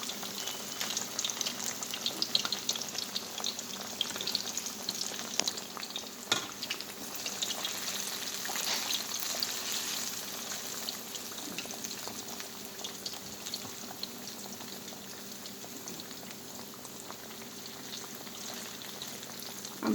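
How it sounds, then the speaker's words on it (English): Plantain fries in hot oil with a continuous, bubbling sizzle that is busiest at first and then settles into a quieter, even crackle, with no one talking. "So I'm going to be putting the plantain. The oil is hot."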